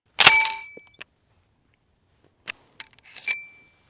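Metallic clinks and clacks from an M1 Garand service rifle being worked: a sharp ringing clink with a bright sustained metallic ping, then a few separate clacks and a final ringing ping, close and alone in quiet.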